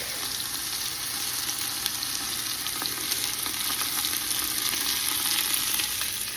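Garlic sizzles in a pot with a steady, bright hiss and crackle that holds evenly throughout, close up and alone without talk.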